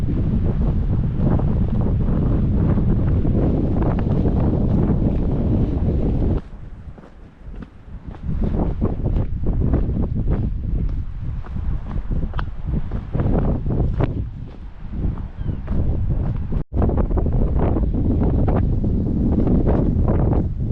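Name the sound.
strong wind on the coast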